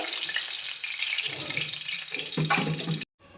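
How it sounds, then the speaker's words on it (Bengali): Magur fish fry in mustard oil in a pan with a steady bright sizzle, loud and close, ending abruptly in silence. "মাছগুলোকে আমি উল্টে পাল্টে ভালো করে ভেজে নেব"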